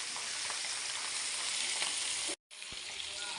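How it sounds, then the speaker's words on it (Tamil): Kanagalutha fish fries in hot oil with a loud, continuous sizzle as the pieces are turned in the pan, with a brief break and a soft knock partway through. "மீனை பிரட்டி விட்ருவோம்."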